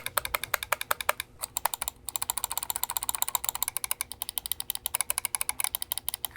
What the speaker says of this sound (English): The one thing I noticed about this mouse is its loud clicks.